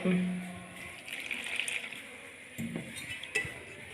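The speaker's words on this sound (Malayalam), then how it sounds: "ഇതിനത് കുറേശ്ശെ വെള്ളം ഒഴിച്ചിട്ട് നമുക്കിത് കുഴച്ചെടുക്കാം" Water poured little by little in a thin stream into flour for kneading dough, with soft splashing and a little mixing noise, close by.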